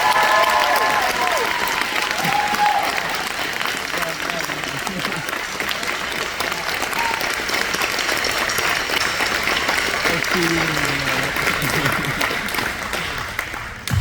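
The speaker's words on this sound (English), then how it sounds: "How about a round of applause for Joshua Severson?" Sustained applause fills the room for an award recipient at a sports awards ceremony, a thick, even roar of clapping from a large audience lasting well over ten seconds, with faint voices briefly audible beneath.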